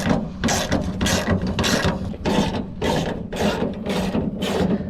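A ratchet tightens a replacement tailgate handle on a 2004–2008 Ford F150, its loud, close pawl clicking in rapid bursts of repeated strokes, with no voices.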